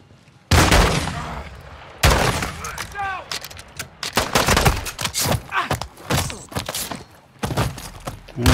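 Gunfire in Call of Duty: Modern Warfare 2, loud sharp bursts and rapid volleys that come in several separate clusters over a busy game soundscape, with no speech.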